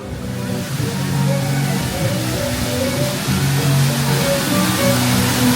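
A waterfall on the Jungle Cruise ride at Magic Kingdom roars as a steady, full wash of falling water, with faint voices and a soft musical tone underneath.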